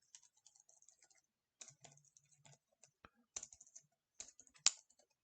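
Keys clatter on a computer keyboard during accounting data entry, close and quiet, with a quick run of taps, a pause, then sparser presses and a firmer final key hit.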